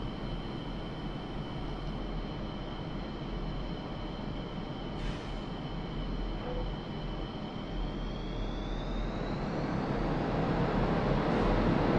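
Steady jet engine roar of a MiG-29S accelerating down the runway on takeoff in the flight simulator DCS World, a continuous broadband rumble with a thin rising whine that swells slightly louder toward the end.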